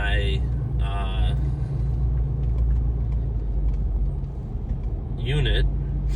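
A vehicle rolls slowly along the aisles of an RV lot, giving a steady low engine rumble throughout, with a voice talking briefly near the start and again near the end.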